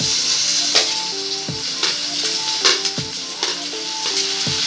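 Tomatoes are added to a hot pan for a punugulu curry, setting off a steady bright sizzle. A spoon stirs and scrapes against the pan at a regular beat of about one stroke per second, all close by.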